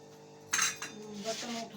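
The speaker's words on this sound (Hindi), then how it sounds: "बर्तन मैं उठाऊँ वहाँ से अपने" Cooking pots and utensils clink and clatter as they are picked up in a home kitchen, a sharp metallic burst followed by softer knocks, close and moderately loud.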